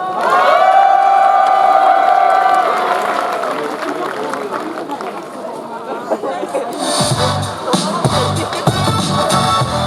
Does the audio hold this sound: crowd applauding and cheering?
yes